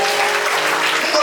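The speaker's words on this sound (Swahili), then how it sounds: "mpe Yesu makofi" Church congregation claps loudly and steadily throughout, a brief, dense burst of applause close by.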